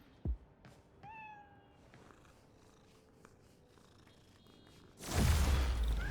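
A cat in Marvel's Spider-Man: Miles Morales gives a short meow and soft purring, then a sudden loud rushing burst of game noise takes over at the end.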